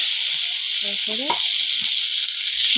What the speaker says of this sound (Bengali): একটুখানি কষিয়ে নেব